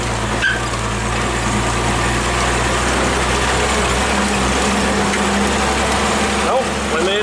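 Engine of a 1948 Chevy dump truck labouring up a steep curve while off-roading, a steady low rumble with a constant drone throughout, close and fairly loud, with a voice talking over it.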